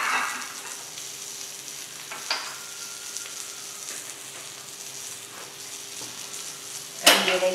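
Fajita filling frying in a pan until crispy, a steady close sizzle with occasional stirring clicks and a louder scrape near the end.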